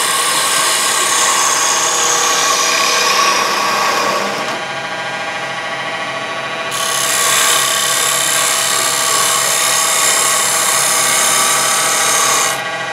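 A woodturning gouge cuts a laminated wooden bowl spinning on a lathe, giving a loud continuous rushing whine that eases off briefly midway, then resumes at full strength.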